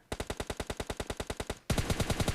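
Rapid automatic gunfire in the video game PUBG Mobile Lite, two evenly spaced bursts of about a dozen shots each, the second burst louder and closer, with no talking.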